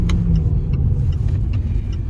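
A car accelerates hard through an intersection with a loud, close, steady engine rumble and road roar, with no talking.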